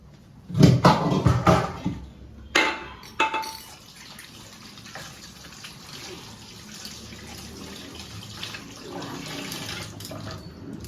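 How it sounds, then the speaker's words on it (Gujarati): Hands washed under a running kitchen tap in a home kitchen, water splashing loudly in bursts for the first few seconds, then settling into a softer steady trickle with faint clinks; no one speaks. "હાથ ધોઈ નાખીએ"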